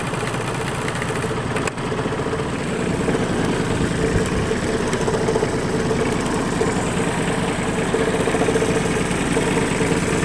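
The engine of a Hinomoto N179 Japanese mini tractor idles steadily and close by, a continuous low chugging rumble with a faint rhythmic knock, no voices.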